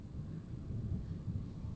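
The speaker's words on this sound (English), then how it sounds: "Enjoy watching the storm." Low, continuous thunder rumbling during a dangerous lightning storm, a steady deep roll lasting the whole stretch with no clear crack, moderately loud and without voices.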